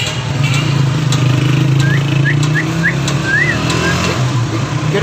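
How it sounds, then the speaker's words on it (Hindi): A motorcycle engine idling steadily under tuning at a workshop, a loud continuous low rumble close by with faint chirping sounds above it. "बाइक दी है मैंने ट्यूनिंग के लिए, बाइक हो रही है ये, इसकी ट्यूनिंग करवा रहा हूँ"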